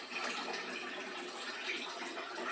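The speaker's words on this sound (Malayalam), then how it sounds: "ഇച്ചിരിയും കൂടെ വെള്ളം നല്ലതായിട്ടൊന്ന് ഒഴിച്ചു വെക്കാം" Water pours in a soft, steady stream into a pan of Kerala onion theeyal curry, a faint, even gush lasting a couple of seconds with no talking.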